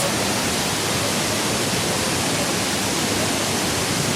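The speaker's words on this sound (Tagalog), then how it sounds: "Nandito kami ngayon sa Taytay Falls." Steady roar of the Taytay Falls waterfall in Majayjay, Laguna, a dense broadband rush of falling water that holds constant and loud throughout with no voices.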